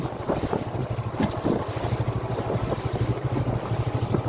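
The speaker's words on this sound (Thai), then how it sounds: "ลมมาครับ เรือเล็กสู้ไม่ไหวครับ" Wind buffets a small squid-fishing boat at sea, with gusty rumbling and a rhythmic low chugging, like an engine or hull slapping, throughout.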